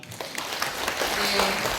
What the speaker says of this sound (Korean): 다시 한번 축하의 박수 부탁드립니다